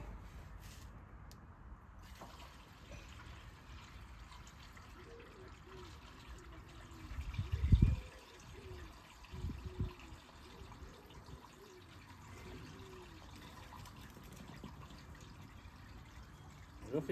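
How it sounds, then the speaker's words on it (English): Coolant poured into the radiator of a 1955 Ferguson TEF20 tractor, a low steady liquid trickle and fill noise running throughout with a brief louder splash midway, heard fairly close. "Let's fill the radiator up with some coolant."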